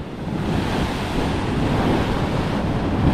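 Continuous heavy sea surf rushes and churns against a boulevard sea wall, a steady broadband roar mixed with wind buffeting the microphone, no voices.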